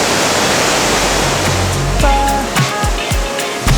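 A loud, steady roar of strongly rushing water from a waterfall in Chiang Mai, Thailand fills everything, constant and close, with faint tonal sounds surfacing toward the end.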